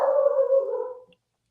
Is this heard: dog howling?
yes